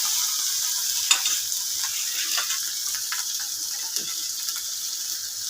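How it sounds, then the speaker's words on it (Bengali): Masala fries in a pan for a mixed vegetable dish with fish head, a steady bright sizzle with soft scrapes and a few sharp taps from the stirring spoon, close and continuous. "নেড়ে চেড়ে ভালো করে মশলাটা কষাচ্ছি।"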